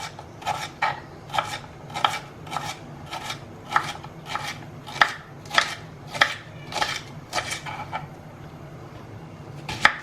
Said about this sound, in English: So first we'll chop the spring onions.